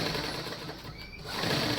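Sewing machine stitching a folded bias strip onto a blouse neckline, a continuous close rapid mechanical whirr that slows briefly mid-way and then picks back up.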